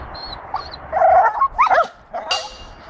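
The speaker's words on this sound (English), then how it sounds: "And here's the dogs." Several close dog barks and yips in short bursts, with a few quieter whimpers between them; no talking.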